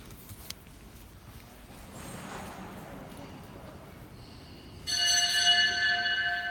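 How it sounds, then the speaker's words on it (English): Church bells begin ringing inside a church in Paris before sunrise, a bright sustained peal entering after quiet ambience and faint footsteps. "I hear the bells."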